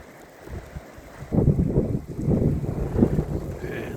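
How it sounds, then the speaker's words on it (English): Gusty wind buffets the microphone on Lake Superior's North Shore, rising in rough bursts after a calmer first second, loud and close with no voices. "it's pretty gusty"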